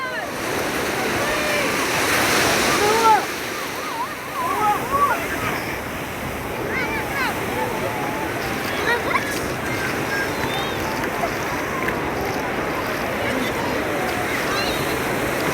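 Sea waves at a beach make a continuous wash of surf while voices of children and adults chatter and shout throughout, the water steady under the crowd noise.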